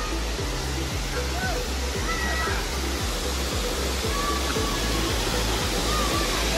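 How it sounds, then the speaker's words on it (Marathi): A roadside waterfall near Devrukh roars steadily and loudly, a dense unbroken rush of falling water filling the whole scene, with faint voices of people playing nearby. "हा बघा धबधबा."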